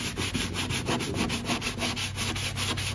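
Rapid rhythmic rubbing of a cloth wiping sprayed water-based timber filler off an old wooden dresser, with close, steady back-and-forth strokes about five times per second throughout.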